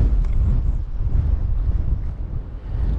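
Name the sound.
strong wind blowing on the coast while fly fishing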